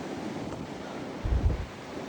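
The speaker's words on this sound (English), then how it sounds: "There's a wind gust." Gusting wind from a New England blizzard in Connecticut, roaring as a steady broadband rush with a stronger gust swelling near the end, loud and close to the microphone.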